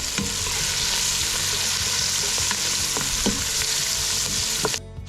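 Ginger and chili fry in a hot pan during outdoor cooking. The sizzle is loud, dense and steady, with a few stirring clanks, and cuts off abruptly near the end.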